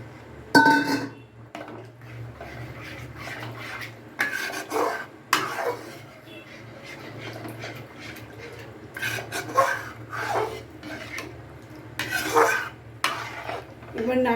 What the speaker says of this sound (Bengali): এবার নাড়তেই থাকবো যাতে না তলায় লেগে যায়।